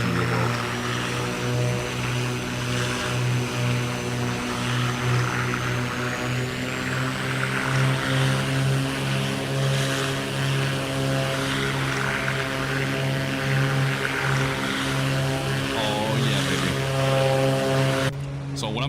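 A BlackSquare B58 twin propeller plane in the MSFS 2024 flight simulator on approach, its engines giving a loud, steady droning hum with a constant propeller tone throughout, uninterrupted by talk.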